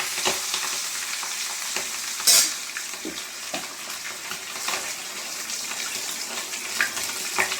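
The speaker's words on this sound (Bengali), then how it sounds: "মাছগুলো ভেজে নেবো একে একে। হালকা করে ভাজবো।" Hilsa fish pieces fry in a pan with a steady, close crackling sizzle and occasional sharper pops and spatters, with no talking.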